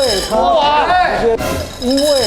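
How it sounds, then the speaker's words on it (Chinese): Ice cubes clinking in a cup, small glassy taps heard faintly beneath continuous close talking. "慢慢的靠近这个杯，这边有一些冰块嘛"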